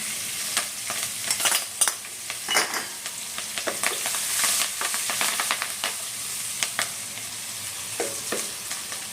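Curry leaves and chopped chillies dropped into hot oil already holding cumin and turmeric sizzle loudly and steadily up close, with crackling pops and stirring scrapes running throughout and no voices.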